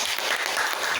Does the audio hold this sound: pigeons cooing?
no